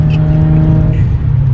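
Modified Genesis Coupe 3.8 R-Spec engine revving loudly and close, a sustained deep, throaty roar with a steady low drone throughout.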